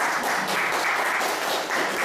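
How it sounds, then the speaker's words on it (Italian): Audience applause at an Italian music TV show, a dense, steady wash of clapping that fills the whole stretch at an even level with no voices over it. "Un applauso ancora per Gianni."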